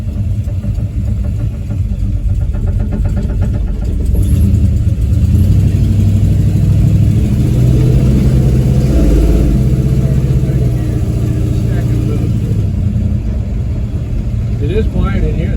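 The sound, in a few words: 1970 Plymouth Fury III 440 big block engine revving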